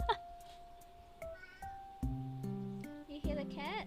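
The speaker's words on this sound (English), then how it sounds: "You hear the cats?" Cats meow several times over a few seconds, rising and falling calls close to the microphone, with quiet music tones underneath.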